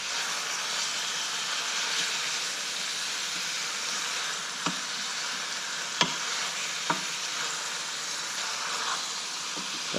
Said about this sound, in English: Do you want to give that a bit of a stir